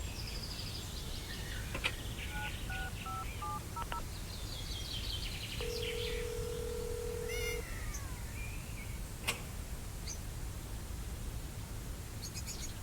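In the adventure game Secret Files: Tunguska, a cat gives a short meow amid a run of electronic phone tones and beeps over a constant soft hiss, the meow faint and brief.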